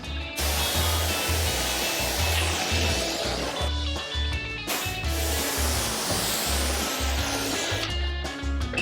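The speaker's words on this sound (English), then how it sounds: "Give you back the pressure washer." A pressure washer sprays a car's panels near the tailgate in a steady, loud hiss of water under a pulsing pump thrum, with one short pause midway and no talk.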